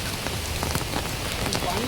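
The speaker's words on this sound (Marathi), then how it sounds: "पाऊस पण सुंदर आहे, पहिला दिवस पडलाय" The season's first rain falls steadily, pattering densely on surfaces nearby with a soft continuous hiss and scattered sharper drops.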